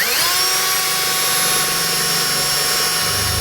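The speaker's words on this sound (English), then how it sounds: "we'll go ahead and make our 4 pilot holes and drill out all the marks we made" A power drill whines steadily at high speed drilling pilot holes in a vehicle frame, a loud continuous motor tone that drops in pitch near the end as it bites or slows.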